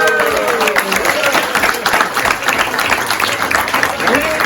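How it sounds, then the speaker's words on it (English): Crowd applause at an alligator farm show in Homestead, Florida, with steady clapping throughout, mixed with cheering voices and busy background chatter. "big round of applause for this gentleman right here"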